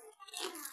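A single crisp bite into a crunchy, crispy-fried vegetable fritter made from leafy shoots, heard up close as a short dry crackling crunch.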